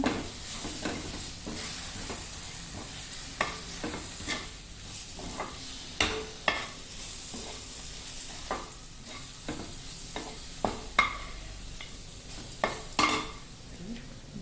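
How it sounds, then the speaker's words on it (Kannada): Garam masala fries in oil in a pan while mushroom curry is made, with a quiet continuous sizzle and frequent scrapes and taps from a spoon stirring against the pan. "ಎಣ್ಣೆ ಸ್ವಲ್ಪ ಫ್ರೈ ಮಾಡಿದ್ರೆ ಚೆನ್ನಾಗಿರುತ್ತೆ ಗರಂ ಮಸಾಲ"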